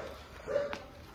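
A single distant dog bark, brief and faint, rising over a quiet room background.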